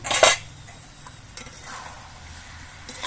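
Ivy gourd (kudri) curry being stirred in a pan: a sharp metallic scrape of a spatula at the start, then soft intermittent clinks and a low simmering hiss, close and fairly quiet.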